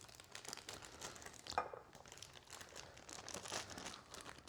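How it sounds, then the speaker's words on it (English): Plastic Ziploc bags crinkling and rustling as chicken meat is packed into them, a continuous soft close handling sound with one sharper crackle. "So next concept is obviously your little Ziploc bags, and putting the meat in those"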